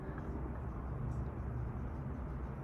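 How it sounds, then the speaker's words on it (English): Traffic noise heard from high atop the Florida Citrus Tower, a steady low rumble of cars and motorcycles passing on the road below, distant but continuous and fairly broad. "It's crazy how loud some of these cars and motorcycles can get from up here as well."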